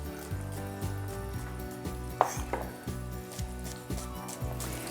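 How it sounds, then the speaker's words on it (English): Shallots sizzle and crackle steadily in a hot pan, with a few clinks of a utensil against the metal. "Once you hear it sizzling like that, it's ready."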